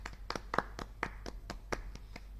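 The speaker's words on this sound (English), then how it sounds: "Klein applausje voor Siebe." A small ripple of applause at a Dutch club cricket match between VOC and Sparta 1888: a handful of sparse, separate claps from a few people, faint and irregular.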